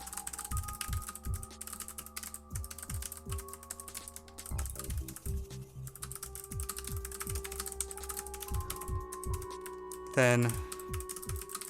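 Rapid typing on a computer keyboard: clusters of sharp, close key clicks with pauses between bursts, a brief quiet word near the start.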